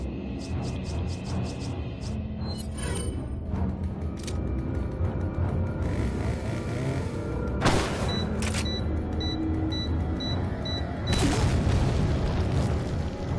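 Mines exploding on an enemy in Resident Evil 4, a run of booms and sharp pops over a dense, rumbling game background, with small beeping tones between the blasts.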